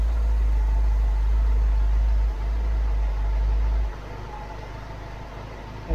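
A Ford Pinto engine fitted in a MK3 Cortina held at 3000 RPM, a loud, steady droning roar that drops to a lower, quieter hum partway through, with no speech.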